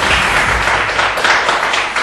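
A studio audience on a quiz show applauds, a dense, steady wash of clapping that fills the whole moment at close range.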